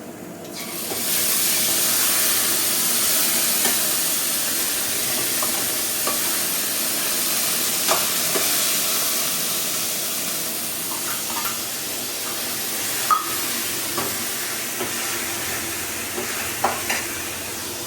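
Ginger garlic paste frying in a home kitchen pan, a continuous bright sizzle with occasional scrape and stir clicks, close and steady throughout with no talking.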